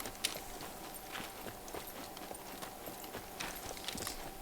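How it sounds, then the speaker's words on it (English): Horse hooves clip-clop at a walking pace in the survival video game Scum, a series of light, evenly spaced knocks, moderately distant and fairly faint, with no talk over them. "I just heard a horse."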